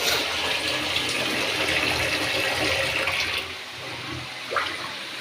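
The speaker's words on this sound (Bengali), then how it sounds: "ঝোলের পানিটা দিয়ে দেব" Water pours steadily and loudly into a pot of meat curry with new potatoes, then eases off partway through, leaving a softer wash and a brief clink near the end.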